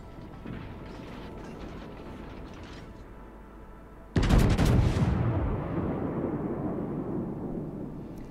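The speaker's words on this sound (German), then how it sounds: "Also jede Salve, die er da so vom Stapel lässt, trifft perfekt." Battleship guns in World of Warships fire a salvo in one sudden loud blast midway through, rumbling and decaying after a quieter stretch of low engine and ambient noise.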